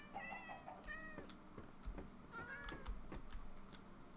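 Several cats meowing in Minecraft, a handful of short, bright mews popping up in scattered bursts over a low, steady game background, some close and some a little farther off.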